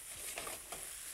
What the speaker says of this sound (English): Why I'm stir frying?